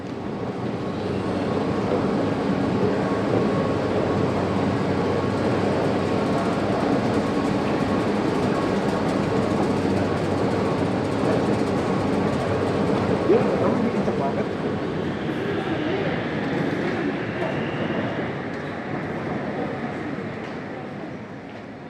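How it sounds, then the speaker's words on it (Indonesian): Bangkok MRT metro train running steadily, a loud continuous rumble and hum of the carriage on the rails lasting throughout, with people talking over it. "Seperti ini MRT-nya."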